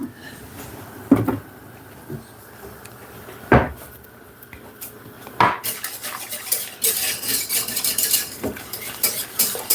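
A spoon stirs thick cornmeal and carrot porridge in a pot. Sharp metallic clinks and knocks against the pot recur at intervals, and the stirring scrape grows busier and more continuous toward the end.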